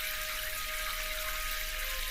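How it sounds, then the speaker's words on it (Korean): Water runs steadily from a bathroom tap in an apartment, a continuous hiss with a faint tonal whine throughout and no pauses. "다시 한번 아래로 머리를 향하고 수도꼭지를 돌린다. 끼익 하는 소리가 나고 잠시 후 쏴 하면서 물소리가 울린다."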